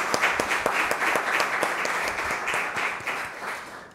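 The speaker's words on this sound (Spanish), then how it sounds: "Vamos a enviarles un aplauso a esta feligresía que hoy está de fiesta patronal." A church congregation applauding during a patronal feast Mass, dense sustained clapping from many people in a reverberant space, holding steady then tapering slightly toward the end.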